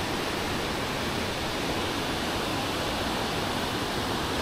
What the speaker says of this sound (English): you can see a little bit of the waterfall right here